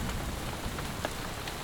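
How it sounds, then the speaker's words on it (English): Light rain falling on the surfaces around a hut in Timor Leste, an even, close hiss of patter with scattered louder drops and no voices. "it's raining a little bit"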